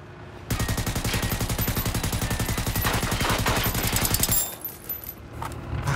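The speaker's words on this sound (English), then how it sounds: "Dude, I'm being shot at, man." Sustained rapid automatic gunfire aimed at the player in the Generation Zero video game, a loud, dense burst of evenly spaced shots lasting about four seconds before cutting off into quieter background noise.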